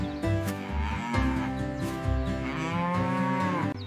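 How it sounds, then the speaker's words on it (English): A cow on a farm gives a long, loud, drawn-out moo, its deep voice rising and falling, clear and close with no talking. "A cow is a big farm animal that gives us milk."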